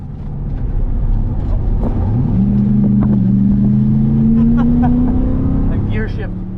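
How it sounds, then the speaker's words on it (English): A race car at full throttle on a track, its loud engine drone climbing in pitch, dropping briefly at a gear shift, then rising again, close and continuous. "A gear shift."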